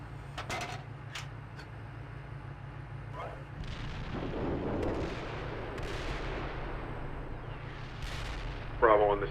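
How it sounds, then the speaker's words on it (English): Artillery fire falls on a town in the Steel Beasts Pro PE tank simulator, producing distant booming impacts and rumbles over a low steady engine drone, with brief crackles, and radio voices faintly present. "Friendly indirect fire on the town at 11 o'clock."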